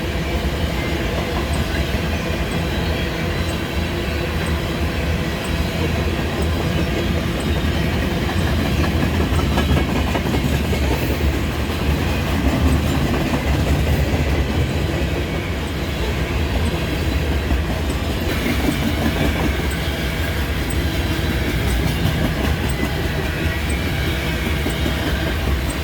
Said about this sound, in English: a pair of ES-44ACs, CN-3903 and CN-3868, glide south into Neenah